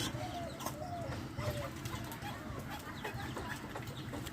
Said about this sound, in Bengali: আমার এই চীনা হাঁস